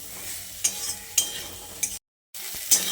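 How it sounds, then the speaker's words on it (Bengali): Soybean chunks fry in oil with chili powder, salt and turmeric. A constant soft sizzle runs under several scraping stirs of a spatula, with a brief gap of silence partway through. "সয়াবিনটাকে বেশ কিছুক্ষণ সময় ধরে লালচে করে ভেজে নিতে হবে"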